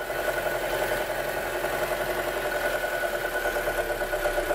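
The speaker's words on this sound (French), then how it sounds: "le moteur se redescend de régime" Audi A6 2.0 TFSI petrol engine with its PCV breather valve just closed, idling steadily with a smooth, even hum and faint mechanical ticking, settling at a constant speed with no voices.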